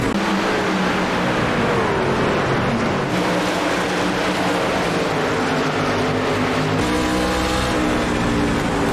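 Ford F150 race truck engines roar continuously around Bristol in the iRacing game, a dense, loud drone of several engines with shifting pitch as trucks rev and pass.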